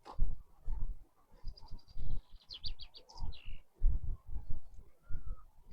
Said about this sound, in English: See, you can hear that bird.